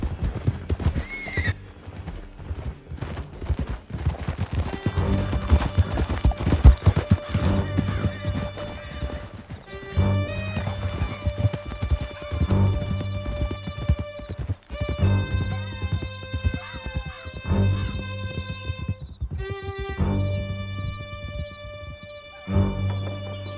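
Horses galloping in Red Dead Redemption 2: continuous rapid clip-clop of hooves with repeated whinnies and neighs over a loud, busy game soundtrack.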